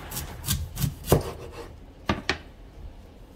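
A knife cuts the top off a golden beet on a cutting board, giving a few dull chopping knocks and scraping thuds, close and fairly quiet, with no voices.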